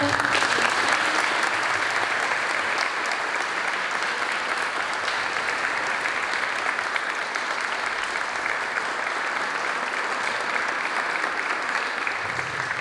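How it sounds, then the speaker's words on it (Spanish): Sustained audience applause after a history lecture at a teacher-training college, many hands clapping in an even, unbroken roar that holds steady for over twelve seconds with no talk. "creo que vamos a darle un fuerte aplauso"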